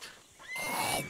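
A single horse whinnies in Red Dead RP on RedM, a short, close, rising neigh that swells and fades within about a second.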